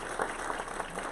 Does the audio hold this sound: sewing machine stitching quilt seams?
no